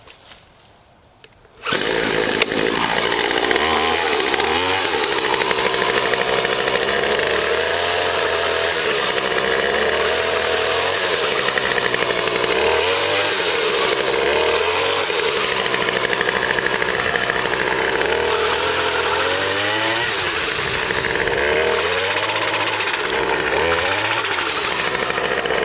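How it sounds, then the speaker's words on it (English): A pole saw roars to life and runs continuously while cutting off a tree limb, its motor loud and close with repeated rising and falling surges as the blade bites into the wood. "Let's take off another limb. Again, now you have to watch that blade turning."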